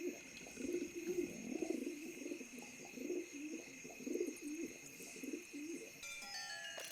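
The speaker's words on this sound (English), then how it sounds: "There's something under the pigeon, but they carry disease, so I don't want to touch it." A pigeon in a video game coos in soft, repeated low phrases at a gentle rhythm over a faint steady electronic hum, with a brief tonal chime near the end.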